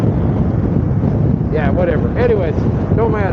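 Strong, constant wind buffeting the microphone of a rider at the 2024 Sturgis motorcycle rally, a loud rumbling roar throughout while someone talks over it.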